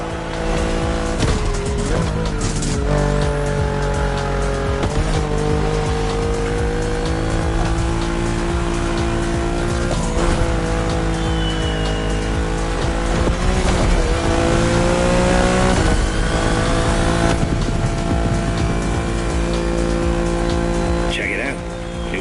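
A race car in Crew Motorfest, tuned Liberty Walk style with a wide body kit and rear wing, revs hard and squeals its tires through a long continuous run over steady game music.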